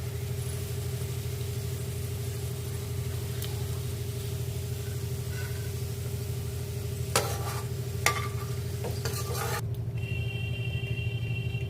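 Onions fry in oil in a pan on a low gas flame, a steady soft sizzle over a constant low hum, with a few brief utensil clicks and scrapes toward the end.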